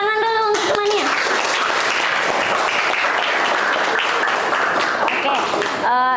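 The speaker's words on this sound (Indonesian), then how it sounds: "Tepuk tangan dulu untuk temannya." Classroom applause for a classmate, with students clapping in a steady, fairly loud burst that lasts about five seconds, framed by a teacher's voice speaking briefly at the start and end.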